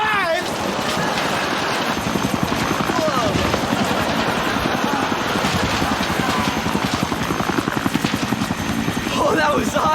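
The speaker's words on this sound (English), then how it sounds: "Man, that helicopter's gonna land right on us." A helicopter comes in to land close by, its loud rotor thumping in a fast, steady rhythm without a break.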